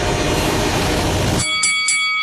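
A 6,000-ton heavy freight train roars past loudly and close in a dense continuous rumble, then cuts off abruptly and leaves faint ringing tones behind.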